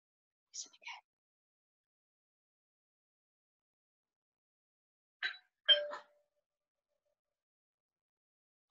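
Two-tone ding-dong doorbell chime, faint and clean: a short ring, a long silence, then a clearer high-then-low pair of tones.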